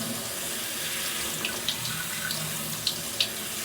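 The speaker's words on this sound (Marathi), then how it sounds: "तर 1 किलो तांदूळ धुवून घेऊयात. भिजत घालू नका, असा चाळणीमध्ये घ्या आणि फक्त धुवून घ्या." Tap water runs steadily over a kilo of rice being rinsed in a sieve, a constant close splashing hiss broken by a few small clinks and taps from the strainer.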